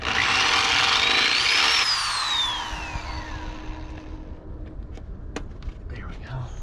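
Power drill driving screws while a large drop visor is installed on a cabover truck, a loud whining motor that rises and falls in pitch for about two seconds and then winds down, followed by quieter clicks and handling noise.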